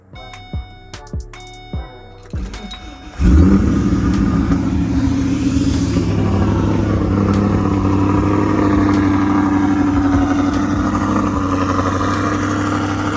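A car engine with a newly installed throttle body: a few light clicks and clatters, then it fires and runs loud and steady at a rough, shaking high idle for about ten seconds, close by with no talk.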